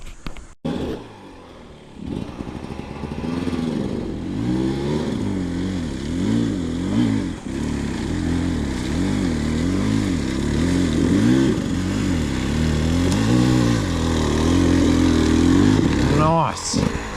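A 2025 Beta XPro 300 dirt bike engine revs up and down repeatedly while riding, a loud rising and falling two-stroke drone close to the rider, with a few brief bumps and a final throttle burst.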